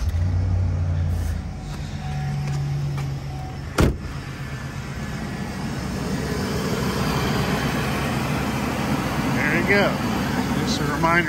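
A van's engine catches after a jump start from a portable Jackery power station and settles into a steady, loud idle rumble, with a sharp knock at the start and faint voices underneath.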